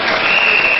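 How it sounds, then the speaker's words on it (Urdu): Students clap together in a general knowledge quiz event, a brief dense burst of applause, loud and close, with no talk over it. "فرسٹ آف آل ان کے لیے سب تالیاں بجا دیں."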